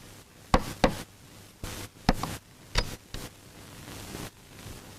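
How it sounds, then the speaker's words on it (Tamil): Someone knocks on a door in several short bursts of two or three sharp raps, fairly close, over a low steady hum. "கதவு யாரோ தட்டுறாங்க."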